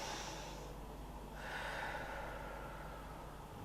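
One slow, deep breath in and out at the end of a flexibility and strength warmup stretch, soft and close with an airy, slightly snorting rush of air and no other sound.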